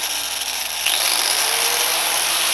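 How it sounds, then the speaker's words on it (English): A Warrior 4.3 amp angle grinder fitted with a flap disc runs continuously, giving a loud, close, high-pitched whirring whine that rises slightly in pitch as it spins up, with no talk. "disc grinder with flapper wheel is very effective at scraping off all my welding slag"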